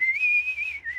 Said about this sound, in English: I'm the best whistler in the whole sky.